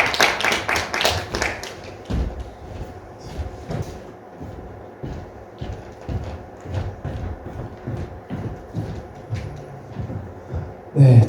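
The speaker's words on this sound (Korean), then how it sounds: "좀 박수로 맞이해 주시면 감사하겠습니다." Scattered claps from a community education event audience in Yeongju welcoming a speaker, a brief burst of hand claps at the start followed by sparse, irregular taps and clatter in a fairly quiet room.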